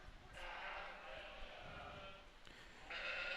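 Sheep bleat at an FFA sheep showmanship class at a county fair, several calls rising over a busy background of crowd murmur and movement, with a louder bleat near the end.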